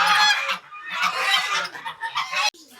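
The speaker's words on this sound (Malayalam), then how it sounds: "ഈ കാണുന്നത് ഗൂസ് എന്ന് പറയുന്നത് ഐറ്റമാണ്." Geese calling at a home menagerie, a series of loud nasal honks and clucks close by, repeated in quick uneven bursts with short pauses between.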